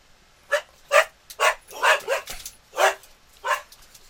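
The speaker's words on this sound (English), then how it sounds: "There's my dog. Dogs." Two dogs bark in a quick series of about eight sharp, loud barks close by, spaced irregularly with brief pauses between them and no voices.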